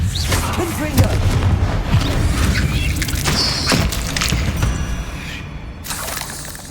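Confringo fire spell blasting spiders in Hogwarts Legacy, with a loud booming, shattering explosion followed by crackling debris and rumbling game effects, backed by a brief bright magical chime.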